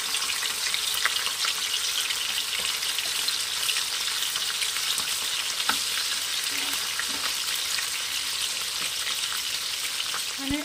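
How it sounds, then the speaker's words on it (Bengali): Small puti fish fry in hot mustard oil in a pan, a steady close sizzle and crackle running through the whole stretch, with occasional faint clinks from a utensil and no talking. "এবারে আমি মাছগুলোকে ভেজে নেবো, অল্প অল্প করে ভেজে নেবো।"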